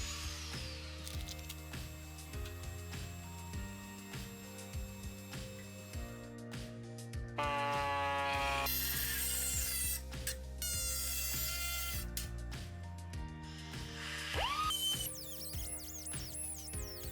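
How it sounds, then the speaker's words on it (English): Rusted steel sill section being cut out of a BMW E30 325i Sport during restoration, with harsh rasping and grinding cutting noise, rhythmic mechanical passages and sharp high-pitched screeching bursts, loud and close throughout. "Now this is rust damage, so I'm going to cut quite a large section out to make sure the metal is full thickness."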